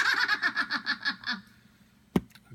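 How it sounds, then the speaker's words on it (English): A witch cackle from a soundboard: a high, rhythmic run of about eight bright laughing pulses, near and fairly loud, fading out, then a single sharp click. "so I got like a witch laugh."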